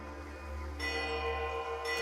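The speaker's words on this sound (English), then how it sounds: "The chill breeze becomes a howling gale, and the tide of ringing bells sweeps you off your feet" A shimmering wash of silver bells rings from grass stirred by the wind in Pillars of Eternity II, sustained and steady and swelling louder partway through, with no talking.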